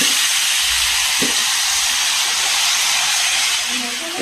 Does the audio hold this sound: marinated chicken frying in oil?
yes